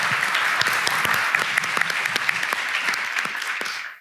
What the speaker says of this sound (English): give Barbara your attention and that overall welcoming round of applause,